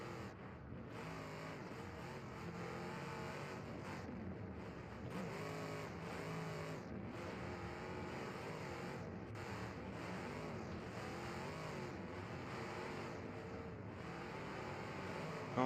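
Race cars in a video game race, a dense, continuous engine drone at a low, even level with overlapping motors and no pauses throughout.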